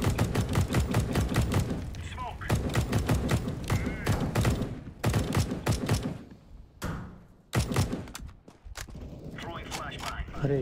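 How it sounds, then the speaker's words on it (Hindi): Rapid bursts of gunfire in a mobile battle royale game, sharp repeated shots in fast rattling clusters separated by short pauses, loud and close throughout. "शॉट आ रहे"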